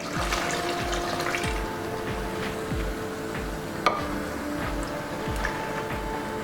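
Water is poured into dal in a cooking pot, giving a soft continuous trickling and bubbling wash with repeated low thumps and one sharp clink midway, with no voices.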